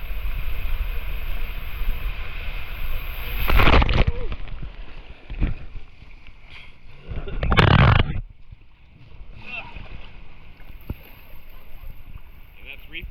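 Riders splash down the Reef Plunge water slide at Aquatica Orlando and plunge through the pool, with two loud rushing bursts of water and wind amid shouts and talk, then a calmer stretch of dripping and chatter.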